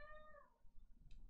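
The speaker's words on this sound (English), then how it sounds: "I don't know if you can hear John singing the cat in the background." A cat meows once with a short, rising-and-falling tonal call, faint and in the background of a quiet room, followed by low rustling.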